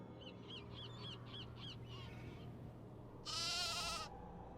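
Sheep in the Nancy Drew game The Haunting of Castle Malloy: a short series of bird-like calls, then one loud, quavering bleat close up, over quiet ambience.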